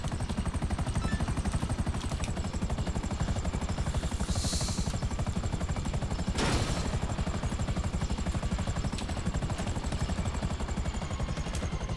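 An attack helicopter flies in GTA 5 Online with a loud, close, rapid rotor chop that never lets up. Sharp bursts of gunfire cut through it occasionally, and no one speaks.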